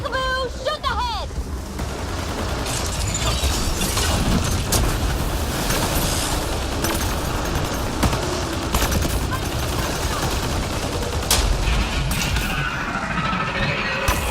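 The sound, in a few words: gunfire from a rifle in the video game Mass Effect Andromeda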